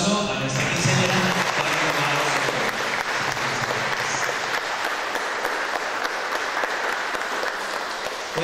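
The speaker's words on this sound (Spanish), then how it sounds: "Vamos a darle un fuerte aplauso a nuestra quinceañera" A church congregation applauds a quinceañera during her XV años Mass in Jaumave, Tamaulipas, with dense, sustained clapping that stays loud and steady throughout, mixed with faint crowd murmur.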